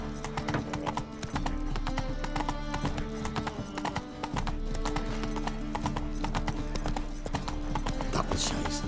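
Horse hooves clip-clop steadily throughout in The Witcher 3: Wild Hunt on PC, a continuous loud rhythmic trot layered over game music and ambience.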